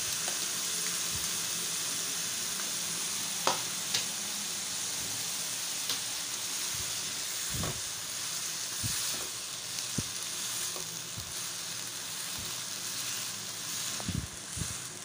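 Soy sauce and green chili paste sizzle in a pan while pizza sauce is cooked, a steady, faint frying hiss with occasional soft pops and stirring clicks, and no talking.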